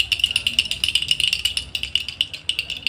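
A wooden toy rattle from a toy shop is shaken rapidly, giving a steady stream of dry, bright clicking taps in a quick, even rhythm, close and alone.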